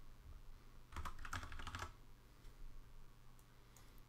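Quiet computer keyboard typing during map editor work: a short, quick burst of key clicks, faint and close, followed by a few isolated taps over low room hum.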